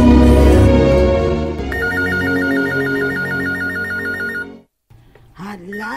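Telephone ringing loudly and close with a repeating electronic warble, preceded by other sounds and followed by a brief silence and a voice.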